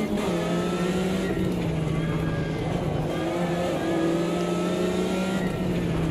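A Porsche race car engine in the sim racing game Automobilista 2 holds a loud, steady drone, its pitch shifting slightly as revs rise and ease, with no talk over it.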